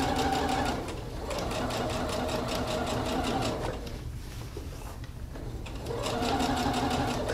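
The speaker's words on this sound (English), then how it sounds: "We're going to stitch nice and slow to be accurate and go around these curves." A sewing machine stitches dress fabric slowly around curves, a steady close mechanical whir with a short pause partway through before it picks up again.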